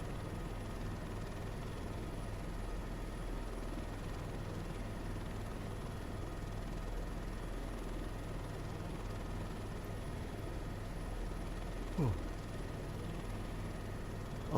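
A helicopter in a flight simulator video game, a steady low rotor and engine drone held constant throughout, with a brief faint tone sweep near the end.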